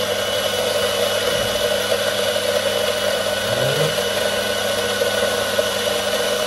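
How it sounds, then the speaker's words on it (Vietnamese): A CRM 900N electric coffee grinder grinds coffee beans, giving a steady, fairly loud motor whir that runs unbroken for the whole stretch with no talking. "cà phê sẽ được xay ra đây và sẽ được chứa trong cái bình này ha"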